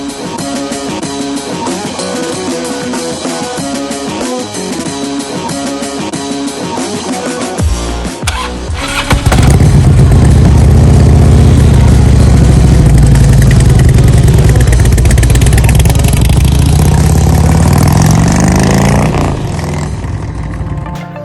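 Motorcycle fitted with Rinehart Racing slip-on mufflers starts up after a stretch of background music, then holds a loud, deep, steady idle with low rumbling for about ten seconds before dropping away.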